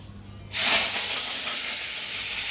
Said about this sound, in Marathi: आता यात कढीपत्ता आणि मिरची एकत्रच टाकतोय